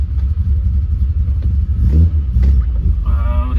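A BMW E30 333i with a dogleg gearbox drives along, its engine giving a steady low rumble with a slight rise in revs, loud and close throughout.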